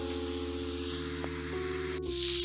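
Shrimp sizzle in a frying pan with a soft, steady hiss, joined by faint held electronic tones and one brief sharp click near the end.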